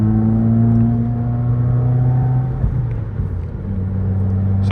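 A 2021 Subaru WRX turbocharged engine pulls steadily under light throttle from inside the cabin, a loud continuous drone with harmonic tones that climb in pitch, briefly dip around a shift, then resume rising.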